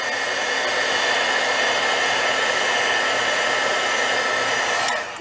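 A heat embossing gun blows hot air over embossing powder on a watercolor resist piece, a continuous close, loud whooshing roar like a hair dryer that holds steady for five seconds before cutting off.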